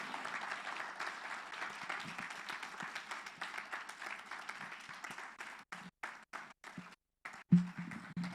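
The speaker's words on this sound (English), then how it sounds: "Please put your hands together for them." Audience applause at a program closeout event, a steady wash of many hands clapping at moderate distance, thinning into scattered claps and short gaps near the end.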